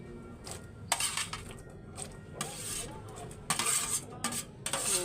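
Sliced carrots and celery tumble into a pan while cooking pickled papaya, giving faint scattered clatters and scrapes of utensil on cookware in quick bursts, with quiet background between.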